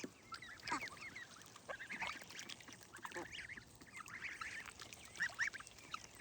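Ducks and geese, including a white Muscovy, quack and honk repeatedly around a pool and grassy yard, with overlapping calls at moderate distance and steady outdoor background noise.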